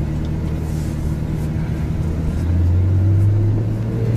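Ferrari engine building as the driver presses the gas from a standstill in auto mode, a steady low rumble inside the cabin that swells louder partway through as the car pulls away.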